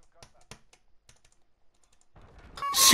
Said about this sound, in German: Tastatur.